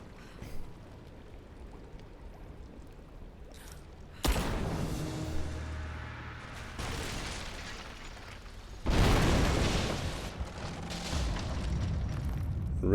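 Greek fire is used to blow out a statue's supports in Rise of the Tomb Raider, giving two loud, heavy explosive bursts after a quieter stretch, each with a rumbling, sustained tail.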